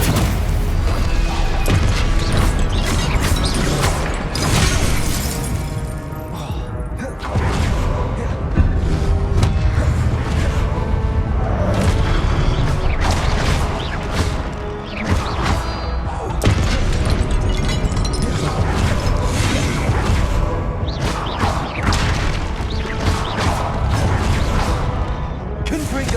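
Spell explosions, crashes and booms from combat in Hogwarts Legacy, a dense continuous barrage of thuds and whooshes layered over game music and voices shouting spell names throughout.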